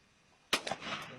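A single sharp gunshot cracks at an outdoor shooting range, close and loud, with a quick echo and a few trailing reports or clatter fading after it.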